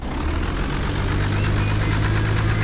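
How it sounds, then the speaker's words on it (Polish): A BMW E36 engine runs steadily in BeamNG Drive, a low, continuous rumble with a rough, knocking edge and constant vibration, loud and alone without talk. "To ten silnik ma taki dźwięk jakby się do końca nie włączył albo coś"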